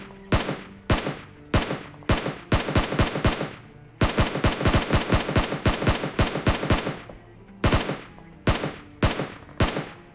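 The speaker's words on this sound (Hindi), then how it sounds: "अब इस बंदे को सिंगल शॉट मारने की बहुत ट्राई करी" Loud, close automatic gunfire in a battle royale video game comes in repeated rapid bursts separated by short pauses, with no voices over it.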